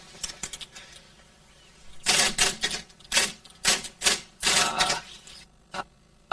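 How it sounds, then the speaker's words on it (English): A busy typewriter clatters in quick bursts of keystrokes, with a few sparse taps at first, then dense clusters of rapid strikes separated by short pauses, close and crisp. "The sound of a busy typewriter."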